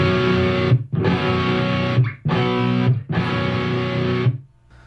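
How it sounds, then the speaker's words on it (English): Distorted electric guitar playing a progressive power chord of root, fifth and added ninth, struck four times in a row with short gaps, each strum sustained and loud before being muted. "You take the root, the fifth, and you add the ninth on top."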